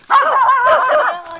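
A dog barks and yips at close range in a single sustained, tonal outburst lasting about a second, sounding more like a whiny howl than sharp separate barks.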